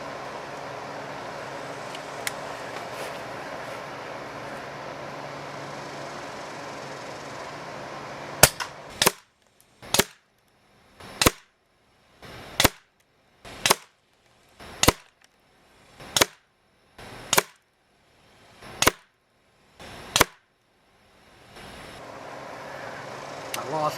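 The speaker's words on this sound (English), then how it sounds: "going to target shoot here just to check the accuracy on a 10-shot group" A Umarex Notos .22 PCP air rifle fires a 10-shot group at a target: a hush of background noise, then about eleven sharp, loud cracks spaced roughly a second apart, each cut off quickly.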